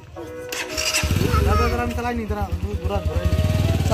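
A motorcycle engine starts with a sputter and then idles in rapid, pulsing bursts while the bike is turned around. People talk over it.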